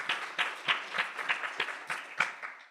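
A small audience at a local historical society talk breaks into light applause, a handful of claps with uneven rhythm, moderately quiet and close, without voices.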